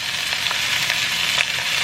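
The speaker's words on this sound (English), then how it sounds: "we're going to throw in the rice so we can start frying some of the rice" Cooked rice frying in oil in a pot for St. Louis style fried rice, a steady loud sizzle with occasional scraping stirs, no talking.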